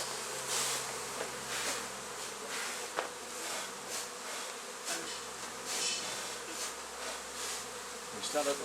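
Honey bees swarm and buzz steadily around a nuc box during a hive transfer at an engine museum, a dense continuous drone with individual bees passing close by, no talking.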